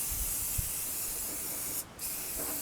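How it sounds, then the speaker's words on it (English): Aerosol rust-freezing spray hissed onto medieval steel armour, a steady close hiss that cuts off briefly near the end and then resumes. "Spray this, spray it all, we'll do a decent nice thick coating"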